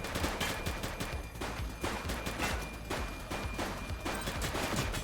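Rapid bursts of gunfire in the police game The Precinct, repeated sharp shots in quick rhythmic volleys, close and loud, keeping up a steady barrage throughout.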